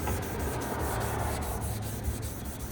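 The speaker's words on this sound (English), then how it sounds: "So just little back and forth motions like this, following the contours of the headlight, making sure to get the corners." Polishing compound rubbed onto a car headlight with quick back-and-forth strokes, a continuous close scrubbing and rasping friction with a faint regular rhythm, no talk.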